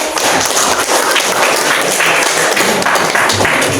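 Students clapping in a university exam classroom session, a brisk, continuous patter of many hands at close range with a few heavier thuds, steady from start to finish.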